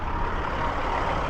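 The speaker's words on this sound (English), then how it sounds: "An idling truck." An idling truck gives a steady, dense engine rumble that holds an even loudness throughout the brief moment, with no voices over it.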